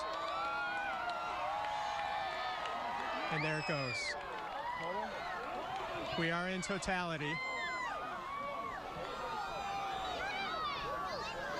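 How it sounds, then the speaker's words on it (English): A crowd watching a solar eclipse reach totality claps and cheers, with whoops rising around the moment the sun is covered. Someone speaks over the noise, and the cheering swells and fades in waves. "Claps, cheers, here it comes."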